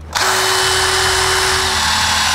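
Power drill boring out a metal part on a beer-crate vehicle build, a loud close whine starting abruptly and holding a steady pitch for about two seconds, alone with no talk.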